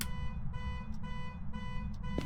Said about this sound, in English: He's setting off the car alarm now.